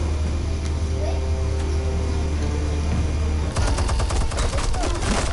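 Gunfire in the Batman Telltale video game: a sustained low rumble under steady noise, then from about three and a half seconds a rapid burst of sharp, closely spaced shots that keeps going to the end.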